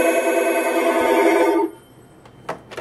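A classic telephone rings with a steady, loud electronic bell trill for about a second and a half, then cuts off, followed by quiet room tone and a couple of brief clicks.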